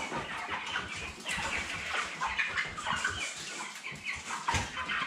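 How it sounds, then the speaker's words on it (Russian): Dense clucking and chirping from a crowded flock of broiler chickens, continuous and close, with a young rooster among them. "вот петушок сидит"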